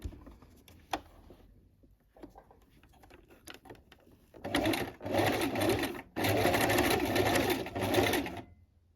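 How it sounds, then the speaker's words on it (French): A sewing machine stitches fabric tubes for a Christmas wreath about 2 mm from the edge. Soft clicks and handling come first, then three loud, close bursts of rapid mechanical stitching, separated by short pauses. "Donc vous allez coudre à 2 mm"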